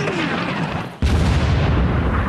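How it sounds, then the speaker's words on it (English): Mortar fire explosion, a sudden loud low boom that cuts in midway through steady rumbling background noise and continues as a heavy sustained roar. "Explosions throw up clouds of dirt nearby."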